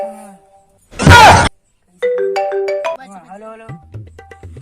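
After a loud burst of noise, a phone ringtone plays a short melodic tune, close and clear, trailing off into quieter tones.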